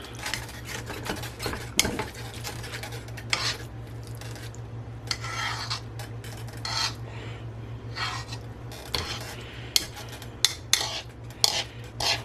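Utensil scraping and stirring food in a stir-fry pan while making a patty melt with bison burger, a steady rasping with light sizzle and occasional clinks, close and continuous without talk.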